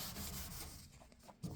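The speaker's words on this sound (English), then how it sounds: "Wax and grease remover, I guess, on a rag." A rag soaked in wax and grease remover rubbing over a dirty surface, likely a snowmobile part, gives a close, steady scrubbing swish in continuous strokes.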